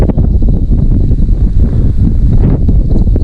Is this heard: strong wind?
yes